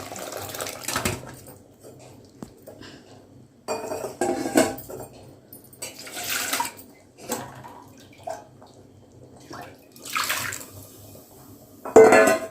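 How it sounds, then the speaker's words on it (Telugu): A spoon clinks and scrapes in a pot while dal is stirred into mango and drumstick sambar. The bursts are irregular and close, with short quiet gaps between strokes and a louder clatter at the end. "మొత్తం మిక్స్ చేసుకోవాలి, కలుపుకోవాలి మొత్తం ఒకసారి."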